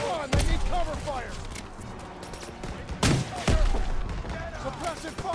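Bursts of gunfire and explosive booms in the Call of Duty: WWII campaign, several loud blasts over a busy battle mix with shouted voices.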